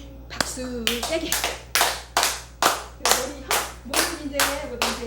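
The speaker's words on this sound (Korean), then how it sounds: "박수 세게." Church congregation clapping hands loudly and in rhythm during a worship song, a steady series of sharp, evenly spaced claps close by with singing voices running underneath.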